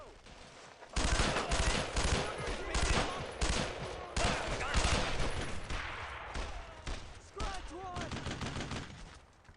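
Rapid World War II gunfire crackles in the shooter game Brothers in Arms: Road to Hill 30, dense overlapping rifle and machine-gun bursts filling the scene loudly and continuously, with shouted voices over the battle.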